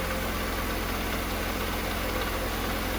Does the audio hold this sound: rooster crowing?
no